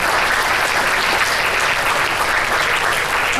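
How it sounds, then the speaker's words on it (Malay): An indoor audience at a school awards ceremony claps in sustained, dense applause, loud and steady throughout with no pauses. "Berikan tepukan gemuruh kepada mereka"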